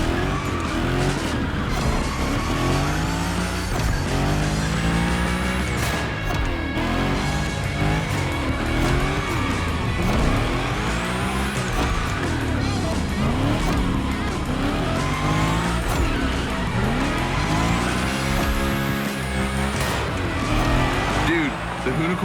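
The Hoonigan car drifting in The Crew Motorfest, tires squealing in long sweeping waves as the engine revs rise and fall continuously, loud and close throughout.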